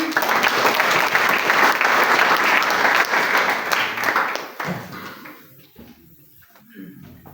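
A church congregation claps hands together during a Sunday service, a dense loud wash of applause that fades out after about five seconds, leaving a speaking voice and low room murmur.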